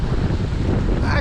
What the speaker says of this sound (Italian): Se calmasse sto vento, mannaggia, non accenna a calare